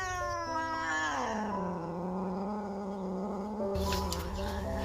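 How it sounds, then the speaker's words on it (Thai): A cat lets out a long, drawn-out grumbling yowl, close and fairly quiet, pitch sliding down into a low, complaining murmur. "ข้าวสวยขี้บน บนอยู่นั่นแหละ"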